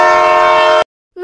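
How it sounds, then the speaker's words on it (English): A loud train horn blares with a steady, rich harmonic tone for under a second, cuts off abruptly, then briefly starts sounding again. "train,"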